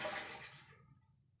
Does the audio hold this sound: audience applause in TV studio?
no